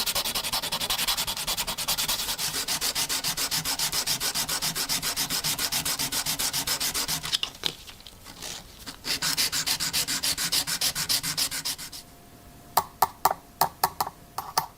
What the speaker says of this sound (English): That looks like some very aggressive sandpaper.